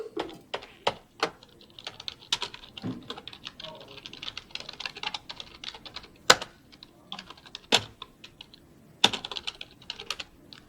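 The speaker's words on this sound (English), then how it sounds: "I typed that out wrong." Close, quick bursts of keystrokes on a computer keyboard while code is being entered, with irregular pauses and a few harder, louder key strikes, such as the spacebar or enter.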